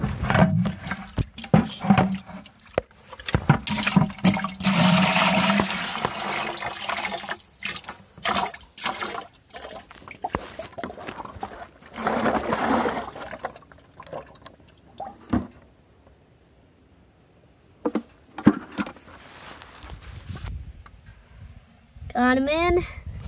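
Water and minnows poured from a trap into a small creek, splashing in a few bursts over the first half, then quieter trickling, with voices talking intermittently throughout.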